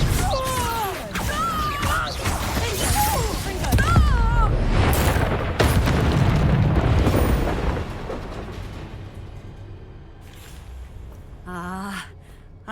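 A Confringo fire spell in Hogwarts Legacy bursts into a loud booming explosion amid a wizard duel in a shop, rumbling for several seconds under strained voices and gasps, then fading into quieter magical tones.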